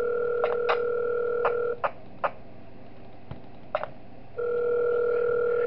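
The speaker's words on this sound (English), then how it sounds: "And I'm gonna meet the phone call since I already heard it." Telephone tone in the Five Nights At Wario's 3 video game: a steady, loud electronic tone with scattered clicks, which drops out for a few seconds and then resumes. No one speaks.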